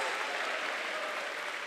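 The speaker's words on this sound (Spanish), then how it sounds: "Aplaude al Señor." Church congregation applauding during a service, a dense, even burst of many hands clapping that fills the short moment at moderate loudness with no talk over it.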